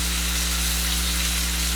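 Steak fries in a pan with a steady, close broadband sizzle and a low constant hum beneath it, and no voices.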